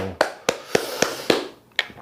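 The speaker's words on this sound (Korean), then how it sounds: "박수!" Students in a university classroom clap in a slow, evenly spaced run of about seven sharp, close claps, each a crisp separate hit with short gaps between them.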